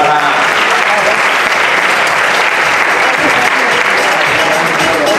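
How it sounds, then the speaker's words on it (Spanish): Loud, dense applause from a crowd at a costume contest, cheering on a complete Foxy costume, sustained and even throughout. "Un aplauso también para Foxy"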